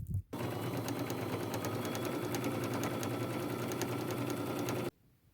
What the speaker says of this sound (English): I am going to take it to my sewing machine, and with a straight stitch, I am going to follow that line all the way around the entire pattern